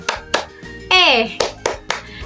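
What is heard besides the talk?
children's rhythmic clapping game (tepuk ceria)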